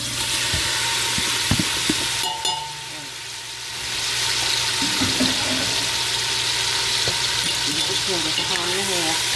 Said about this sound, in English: we're gonna just cook these shrimp up real quick